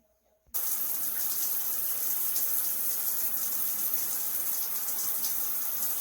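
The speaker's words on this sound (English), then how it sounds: "It has a different kind of mode functions of the shower. I like the massage function," A Moen Ignite shower head running on its massage spray setting, a steady, loud hiss of rushing water that starts abruptly after a short silence and continues evenly.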